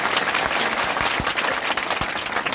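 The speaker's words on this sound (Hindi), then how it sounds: "ताली नहीं बजाना है, ताली नहीं।" A crowd at a political gathering claps in a dense, loud burst, with sharp separate claps standing out from the wash.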